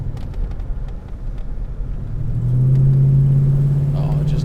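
A Ford Mustang Mach 1's V8 engine idles with a low rumble, then revs up about halfway through into a louder, sustained, deep throaty drone heard close up.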